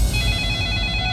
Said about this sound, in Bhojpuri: कितना फोन आवेला इनकर